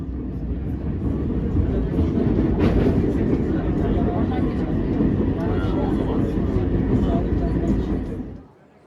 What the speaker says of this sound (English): I took the tram this time that goes right across the Galata Bridge.